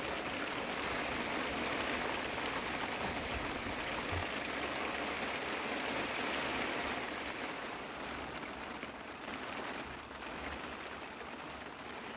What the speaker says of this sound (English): once I got settled in the new bivvy, the rain came as well